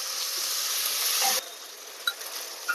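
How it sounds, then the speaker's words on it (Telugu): Fresh coriander and mint leaves dropped into hot oil in a pan for a bobbarla gudalu snack, giving a loud close sizzle and hiss that drops to a quieter simmer with a couple of faint clinks. "ఇప్పుడు దీంట్లోనే ఈ కొత్తిమీర, పుదీనా సగం వేసుకోవాలి. ఇది వేగనియాలి."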